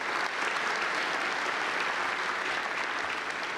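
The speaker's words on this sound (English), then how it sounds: "can we give a round of applause to our panel?" An audience at a lecture applauds its panel, a sustained, even wash of many hands clapping from start to finish with no talking over it.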